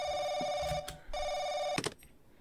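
An old-style telephone in The Crooked Man video game rings in two bursts separated by a short pause, each a bright electronic trill, with a soft clunk at the end.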